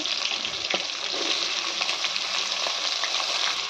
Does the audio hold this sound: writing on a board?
no